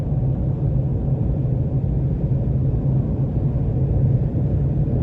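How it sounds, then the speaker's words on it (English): A 2019 Shelby GT350 Mustang's exhaust rumbles steadily during a test drive, a deep, constant low drone heard from inside the cabin with no talking. "this is probably one of the best exhausts that I've heard out of an American sports car"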